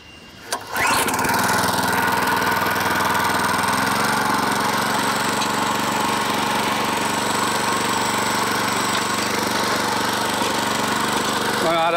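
A motor tiller engine in a city vegetable garden catches after a brief start and then runs loud and steady close by, a continuous rough drone throughout.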